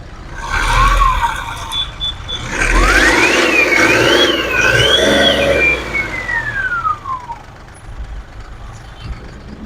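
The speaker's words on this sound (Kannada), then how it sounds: "ತುಂಬ ಸ್ಮೂತ್ ಆಗಿದೆ ಇಂಜಿನ್ನು" Close, loud, steady running of a 2013 Mahindra Quanto diesel turbo engine, a low rumble throughout with a wavering higher tone gliding over it in the middle, easing slightly toward the end.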